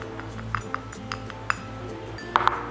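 Spoon clinking against a glass while sugar is added for a coffee drink, a handful of light bright chinks scattered unevenly, close and fairly quiet over a low steady hum.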